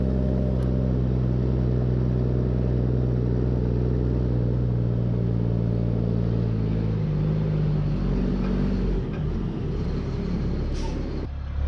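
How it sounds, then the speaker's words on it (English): A GMC C-8500 tandem-axle dump truck drives along, its heavy diesel engine droning low and steady from inside the cab, pitch shifting near the end as it slows and a brief air hiss sounds. "This is Dirt Perfects GMC C-8500 Tandem axle dump truck."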